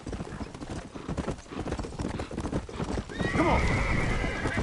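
Horse in the Red Dead Redemption video game, galloping with rapid hoof clip-clops before letting out a loud, drawn-out neigh near the end; a man briefly calls out over the hoofbeats.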